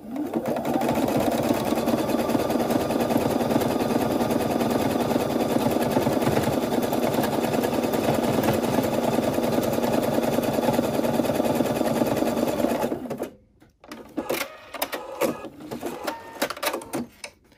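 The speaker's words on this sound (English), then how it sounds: "I am simply going to zigzag along these raw edges" A sewing machine zigzag-stitches along raw fabric edges of a banana zipper pouch, running as a loud, steady mechanical whir for about thirteen seconds before stopping abruptly, followed by scattered handling clicks and rustles.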